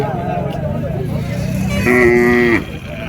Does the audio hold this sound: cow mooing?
yes